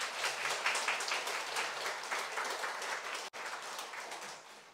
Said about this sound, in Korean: 좀 우리 위로의 박수 한번 더 쳐주시고요.